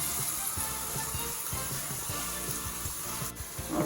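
Warm water from a boat's shower runs steadily into a small mini washing machine, a continuous splashing rush with some low gurgling, close and unbroken throughout.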